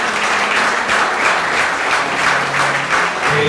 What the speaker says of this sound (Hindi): अगर ताली देनी है जोर से ताली दें।